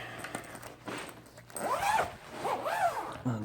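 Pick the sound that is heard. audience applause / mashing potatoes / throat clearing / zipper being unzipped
zipper being unzipped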